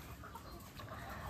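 Laying hens at 23 weeks old and near peak egg production cluck amid a dense, steady flock din that fills the whole short stretch with constant busy noise.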